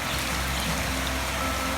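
Rain falls steadily around an outdoor restaurant surrounded by foliage in Fiji, a dense, even patter and hiss that stays constant throughout.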